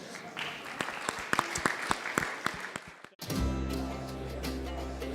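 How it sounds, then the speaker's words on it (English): An audience at an energy event in Liverpool claps in a dense, steady burst for about three seconds, then the applause cuts off abruptly as music begins. "Give yourselves a round of applause."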